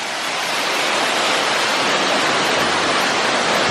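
A waterfall at Ferne Clyffe State Park rushes in a steady, dense roar of falling water, close and loud, constant throughout with no voices.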